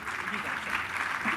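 An audience at a mushaira poetry gathering claps steadily to welcome a poet, a dense, even wash of applause at moderate volume.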